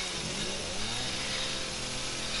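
A chainsaw in the horror game Resident Evil 7 runs steadily, a dense buzzing engine roar that holds at an even, loud level throughout, with no voices over it.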